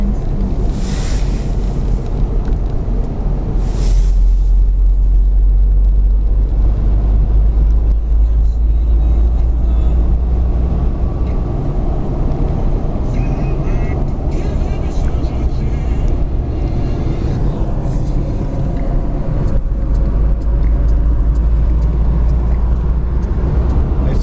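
Steady road rumble and wind buffeting from a moving car in the Boston area, with continuous low engine and tire noise throughout and occasional passing whooshes.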